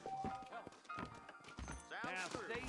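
Horse hooves clip-clop in Red Dead Redemption, a steady run of soft hoof beats carried under continuous talking, with game sound layered throughout.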